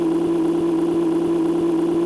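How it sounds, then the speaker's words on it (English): A synthetic truck engine drone from a poorly made racing video game holds one flat, buzzy, unchanging tone with a faint rhythmic pulse, loud and constant with no variation in pitch. "an irritating, crappy engine sound permanently when you're holding down accelerate"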